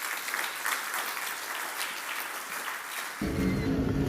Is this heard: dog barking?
no